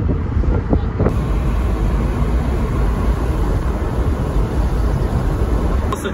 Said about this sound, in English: Do you even need a radio with a car that sounds as good as a Porsche does?